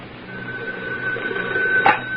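A telephone rings in an old radio drama. The electric bell gives a steady, bright ring, fairly loud and close, with a brief louder burst near the end.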